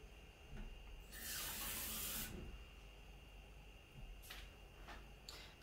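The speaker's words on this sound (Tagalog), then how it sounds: "maglagay lang tayo ng konting tubig" Water runs from a tap for about a second onto chopped carrots and potatoes, a brief hissy splash, followed by faint clinks and rustles of kitchen handling, close and quiet.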